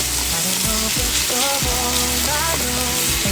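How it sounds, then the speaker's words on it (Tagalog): Onion sautéing in a pan for ginisang upo with sardines, a steady close sizzle and crackle of frying with scraping stirring sounds and faint background music. "Ayan, ginisa ko na ang sibuyas."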